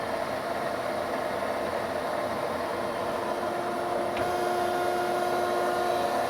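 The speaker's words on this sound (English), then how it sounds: "You can see the whole shuttle moving back and forth here." Steady mechanical hum with a tonal whine from a W.F. Wells W-10-2 automatic dual post bandsaw as its vise shuttle travels back and forth. There is a short clank partway through, and no voices.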